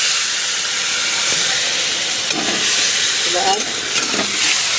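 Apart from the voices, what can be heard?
spice paste with garlic and ginger frying in a pan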